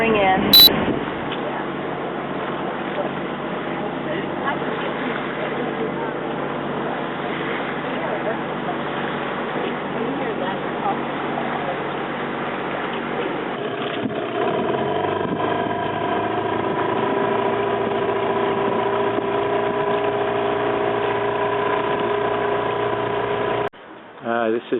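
Sea Star II, a sailboat, motoring in toward harbor with its engine running under steady wind noise, a continuous drone that settles into a steadier tonal hum partway through, with brief talk near the start.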